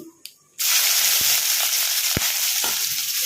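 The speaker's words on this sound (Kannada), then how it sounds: "ಫ್ರೈ ಮಾಡ್ಕೊಳ್ಳೋಣ ಸ್ವಲ್ಪ ಕೆಂಪದಾಗಲಿ ಬೆಳ್ಳುಳ್ಳಿ ಕರ್ಬೇವಿನ ಸೊಪ್ಪು" Garlic and curry leaves fry in a hot pan with a loud, steady sizzle that bursts in suddenly after a quiet start, with a few soft clinks of stirring along the way.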